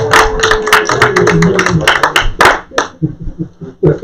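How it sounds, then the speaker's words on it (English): A small group claps at a city council meeting, close, loud, uneven handclaps that thin out into a few scattered claps and light knocks. "You mean I actually get an applause for one?"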